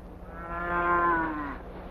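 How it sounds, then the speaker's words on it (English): A single cow gives one long, loud moo that swells and then falls in pitch, close by on an outdoor Western ranch set, with no voices over it. "take your cow to the corral."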